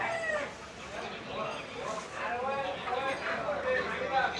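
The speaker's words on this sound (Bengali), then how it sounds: "এগুলা কিন্তু সবই কক।" Chickens and roosters at a city market in Bangladesh cluck and call in a busy, continuous chorus nearby while people talk over them.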